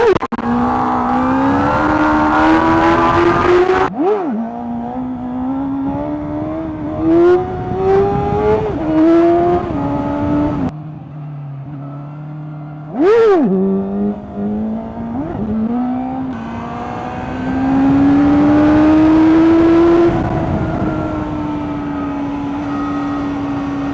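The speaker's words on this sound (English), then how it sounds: "anyone curious if this bike can wheelie in second gear?" A KOVE 450R single-cylinder motorcycle engine revs hard in second gear during a wheelie, rising and falling in loud, near passes with sharp throttle blips and a brief drop before climbing again.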